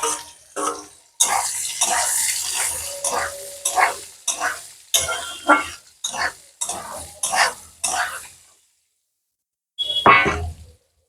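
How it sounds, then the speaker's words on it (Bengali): Rhythmic scraping strokes of a spatula stirring fried carrots and potatoes in a sizzling pan, about a dozen brisk passes, then a short pause and one last stir. "এরপরে আমি এখন এর মধ্যে দিয়ে দেবো সেই ভাজা এই গাজর আর আলুটা"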